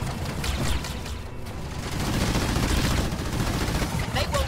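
Sustained gunfire fills a video game battle, steady rattling bursts layered over a continuous rumble, with voices faintly present underneath.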